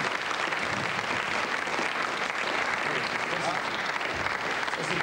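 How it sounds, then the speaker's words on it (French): Audience applause at a French comedy show, a dense, steady wash of clapping from a crowd that holds at an even level for about five seconds, with no talk standing out. "on l'applaudit alors."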